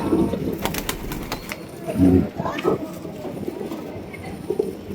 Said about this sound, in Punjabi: ਇਹ ਪੁੰਨੂ ਵਾਲਾ ਪੁਰਾਣਾ ਕਬੂਤਰ ਹੈ